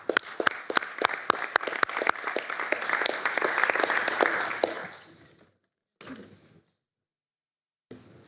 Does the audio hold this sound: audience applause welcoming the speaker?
yes